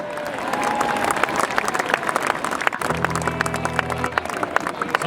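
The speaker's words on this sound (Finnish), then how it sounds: "Annetaan nyt raikuvat aplodit" Loud outdoor crowd applause and cheering fills a Tappara hockey championship celebration in a town square, with a brief low horn-like blast partway through.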